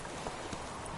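Roach the horse galloping in The Witcher 3, a brief burst of rapid hoofbeats thudding over a busy, noisy game backdrop.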